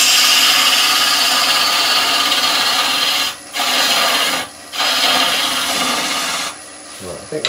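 A wood lathe turns wet timber for a natural edge vase, giving a loud, continuous close scraping hiss as the tool cuts, broken by a few brief pauses.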